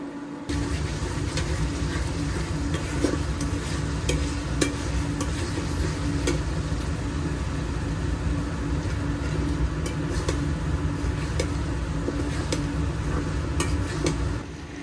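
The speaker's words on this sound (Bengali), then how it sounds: "ইলেকট্রনিকে আমি মুরগিটা ভুনা করছি" Chicken being dry-fried bhuna-style in an electric cooker with ground pepper, turmeric, chili, cumin and coriander, a continuous sizzle and scraping stir with scattered clicks from the utensil, with no voices.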